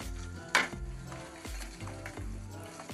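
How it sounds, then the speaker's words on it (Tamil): Urad dal and curry leaves sauté in hot oil with a continuous sizzle, one sharp crackling burst near the start and soft stirring scrapes underneath, close up and with no talking. "உளுந்து, கருவேப்பிலை எல்லாத்தையும் போட்டு வதக்கி"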